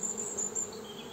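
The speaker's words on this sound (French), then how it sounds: "on voit les abeilles, hein, qui rentrent du pollen sans problème" Buckfast honeybees buzzing around a hive entrance as they bring in pollen in late March, a soft steady hum with a close bee droning past, faint and alone.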